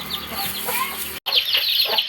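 Several chickens cluck and murmur continuously nearby, their overlapping calls forming a busy, chattering flock sound with a brief dropout in the middle.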